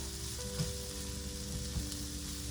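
Sliced sausage and zucchini sautéing in a skillet give a steady, moderate sizzle with faint occasional clinks, heard alone without speech.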